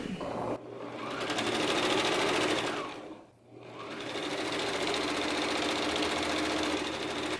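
A sewing machine running gathering stitches along a linen pillow cover, a close, steady mechanical whirring hum that briefly slows and pauses midway before resuming at full speed.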